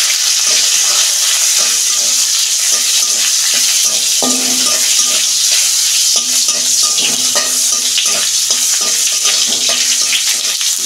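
Panch phoron spices and tomato frying in a pan, a steady loud sizzle with repeated scraping strokes of a spatula stirring throughout.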